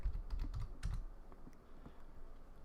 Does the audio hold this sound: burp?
no